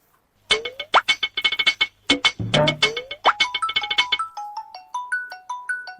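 A phone ringtone plays alone: a fast, bright electronic melody of quick plucked notes, then a slower stepping tune near the end.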